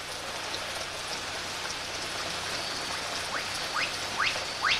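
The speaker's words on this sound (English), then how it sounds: "The downpours of rain are absorbed by the vegetation and soil like a giant sponge" Steady rain downpour falling in a forest, a dense even hiss of drops on leaves and soil, close and continuous with no voices, a few brighter drip sounds near the end.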